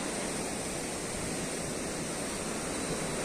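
Floodwater in the swollen Maleshri river rushes past in a steady, unbroken roar, close and fairly loud, with no voices over it.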